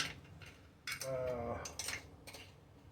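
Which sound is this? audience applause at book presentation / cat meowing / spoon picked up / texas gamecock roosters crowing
spoon picked up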